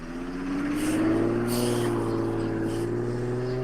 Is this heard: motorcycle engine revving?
yes